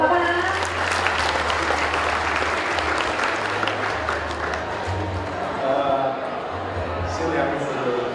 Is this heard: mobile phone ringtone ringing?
no